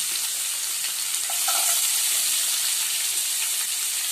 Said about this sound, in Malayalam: ഈ ഇഞ്ചി വെളുത്തുള്ളിയും തേങ്ങാക്കൊത്തും നന്നായിട്ട് മൂത്ത് കിട്ടണം നല്ലതായിട്ട്. അതുവരെ നമുക്ക് ഇതുപോലെ ഒന്ന് ഇളക്കി കൊടുത്തുകൊണ്ടിരിക്കണം.